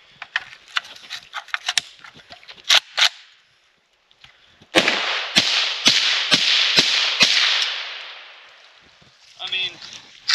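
Shots from a Polish PAC Pioneer AKM sporter rifle ring out at an outdoor range, a loose string of sharp cracks followed by a steadier run of rapid reports with a long roar behind them, then a short pause and a few more.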